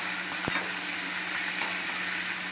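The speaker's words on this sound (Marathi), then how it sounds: "कांद्याला चांगलं आपल्याला भाजायचं आहे" Chopped onion with bay leaf frying in a pan for chicken curry, a steady broadband sizzle running throughout, with a sharp spoon tap near the start and another faint knock later.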